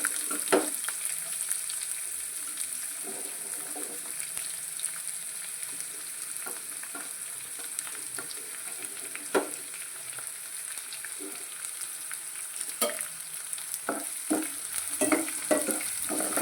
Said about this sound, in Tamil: இப்போது வெங்காயத்தை சேர்த்துக்கோங்க.